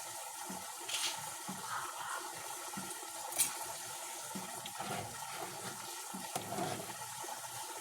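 Water spilling over the brim of a full container while cooking outdoors, a steady close gushing wash that runs unbroken throughout, with faint background activity and no talk.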